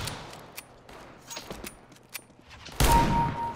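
Scattered distant gunfire crackles in a CS:GO match, then a loud, sharp R8 Revolver shot lands near the end with a heavy close report and short ringing tail.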